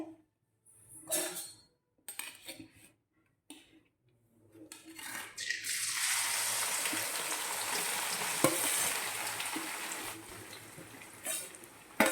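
About 250 grams of grated green turmeric tipped into a hot pan, with a few clinks of a utensil and then a loud, steady sizzle of frying that continues to the end.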